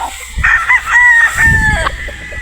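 A gamefowl rooster, a Boston cross from a game farm in Batangas, gives a single loud crow close to the listener, rising and holding before trailing off, with no talk over it.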